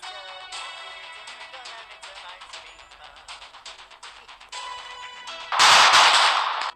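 A series of rapid clicks and blips ends in a sudden loud burst of noise, a planted detonator's explosion in the video game Ice Scream 3, cutting off quickly.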